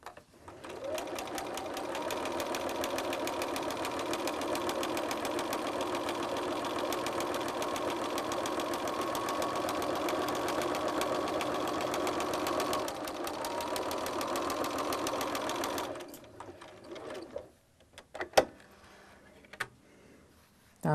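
A sewing machine runs a steady, fast stitch along a flat felled seam for about sixteen seconds, close and loud, then stops, leaving a few clicks and handling noises.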